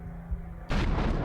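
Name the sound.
cannon fire sound effect in Corsair Leader board game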